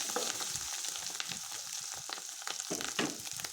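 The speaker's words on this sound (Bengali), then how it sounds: "আবার 1 পিঠ ভালো করে শুকিয়ে দিয়ে উল্টো পাল্টে ভেজে নিচ্ছি" Fish roe frying in a pan, a steady crackling sizzle with scattered pops and occasional stirring scrapes, close and continuous throughout.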